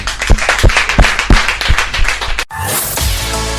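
A radio studio audience claps for a band, sharp, fairly regular handclaps for a couple of seconds before cutting abruptly into music.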